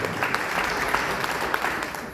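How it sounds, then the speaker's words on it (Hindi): Audience applause at a leaders' gathering, dense continuous clapping from many people, fairly even and moderately distant for the whole stretch. "तालियां हो जाए सर के जी लिए"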